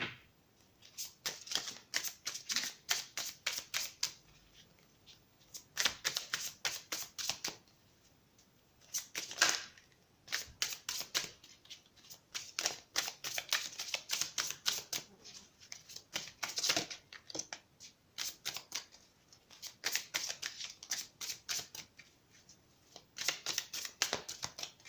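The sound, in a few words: shuffling oracle cards for a tarot reading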